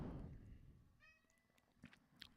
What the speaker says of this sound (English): I got a cat in the background